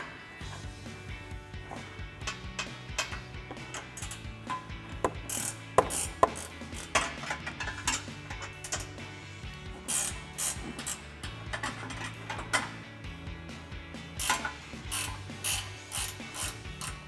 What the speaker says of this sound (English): I'm going to take my 14mm ratcheting wrench, get in here